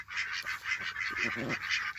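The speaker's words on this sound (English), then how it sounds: "as you can hear, I'm being overwhelmed by ducks" Ducks quack in a loud, busy chorus of repeated nasal calls close by, overlapping continuously with no pauses and no talking.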